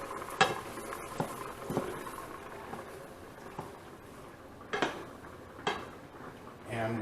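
Mushrooms and red cooking wine being stirred in a pan, a quiet bubbling simmer broken by several sharp clicks and scrapes of a utensil against the metal.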